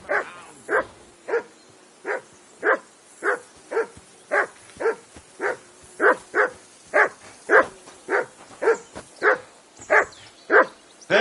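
A dog in the video game Kingdom Come: Deliverance II barks in a steady, rhythmic string of about twenty loud, close woofs evenly spaced over several seconds, with no talk.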